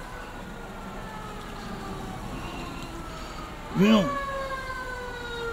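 A fire engine siren rises briefly and loudly for about a second midway, at close range, over steady background noise with a few spoken words.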